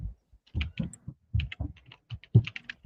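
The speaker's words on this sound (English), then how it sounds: "I was typing something in" Someone types on a computer keyboard, with quick irregular clusters of close, crisp keystrokes and brief pauses between them.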